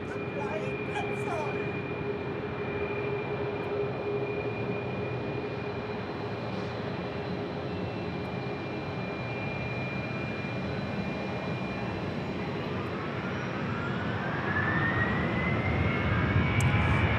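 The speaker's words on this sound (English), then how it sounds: "So we got the super long 757-300." A long Boeing 757-300 jet airliner hums steadily at the airport, a constant engine whine with a sustained tone, rising a little louder toward the end.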